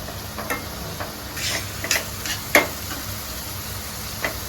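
Spiced food with chili powder is stirred and mixed in a sizzling pan, with soft scraping strokes and light utensil taps at an irregular rhythm over a steady frying hiss, close and without talk.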